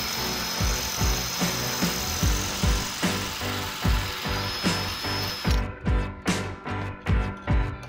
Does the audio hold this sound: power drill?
yes